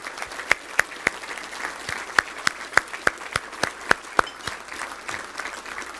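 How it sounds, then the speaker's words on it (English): A banquet audience at a touchdown club awards dinner claps steadily, with sharp individual hand claps standing out above a dense patter of applause that runs for several seconds before thinning toward the end. "Let's give them a round of applause"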